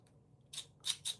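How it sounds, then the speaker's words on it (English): Fun craft scissors kept with crochet supplies snip three times in quick succession, crisp and close, after a quiet start with only faint handling noise. "they're fun scissors"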